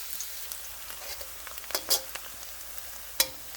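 Onions, garlic and carrots for Indian-style veg chowmein fry in a pan with a continuous soft sizzle, broken by several sharp, quick stirring scrapes.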